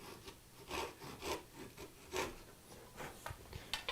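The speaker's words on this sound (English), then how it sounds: "We're going to cut this piece off." A hand saw cuts slowly and lightly through wood for compound dovetails, giving a soft rasping stroke repeated at a steady rhythm, close and fairly quiet with no talking.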